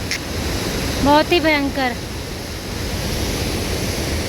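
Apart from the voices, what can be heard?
fast-flowing water on a rainy mountain trek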